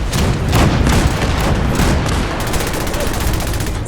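A dense, rapid barrage of heavy ship cannon blasts in a video game broadside thunders continuously, booming shots overlapping in a loud, sustained volley.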